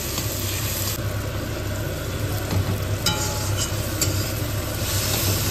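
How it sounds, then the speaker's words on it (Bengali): Onion and chopped tomato fry in a pan, giving a steady, close sizzle that runs unbroken throughout with faint scraping and stirring underneath. "পেঁয়াজটা কিন্তু গোল্ডেন ফ্রাই হয়ে এসছে"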